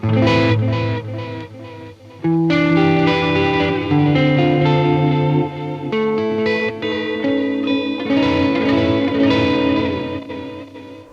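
A UAD Starlight Echo Station tape echo pushed to heavy, exaggerated wow and flutter smears sustained musical notes into a wobbling, chorus-like warble, loud and continuous with reverb tails.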